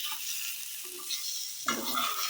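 Steady sizzle of fried potato and pointed gourd curry with spices in a pan, with a stirring scrape near the end and the hiss continuing underneath.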